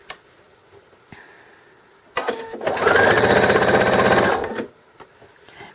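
Sewing machine top stitching fabric for drool pads: a few quiet clicks, then a loud, close, steady mechanical whir of rapid stitching for about two seconds that stops abruptly, with no talk.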